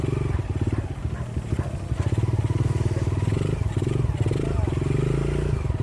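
An enduro motorcycle being ridden across an off-camber dirt slope, its engine putting out a steady low, throbbing drone with slight surges in throttle. The rider keeps the gas minimal and nobody speaks.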